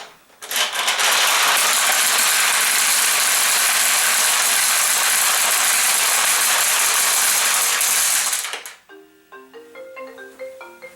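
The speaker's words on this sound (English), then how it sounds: "the balls will flow through and land into your receiving tray at the bottom" A dense, loud metallic rush of steel balls pours through a Nishijin pachinko machine into the receiving tray for about eight seconds, then stops and gives way to a short chiming melody.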